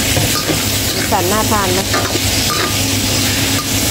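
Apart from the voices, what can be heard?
stir-frying paprika, carrot, onion and garlic in a pan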